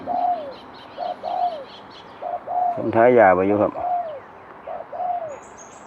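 Repeated short bird calls in a steady pattern, with a burst of pigeon-like cooing in the middle, over a soft outdoor background while someone speaks.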